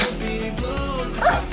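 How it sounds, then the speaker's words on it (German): A dog barks in the Minecraft game: a few short, close yips and barks over a low background hum, with no speech in between. "Also der Hund."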